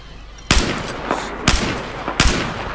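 Gunfire in Battlefield 4, three sharp, loud shots spaced about a second apart over a steady low background of battle noise.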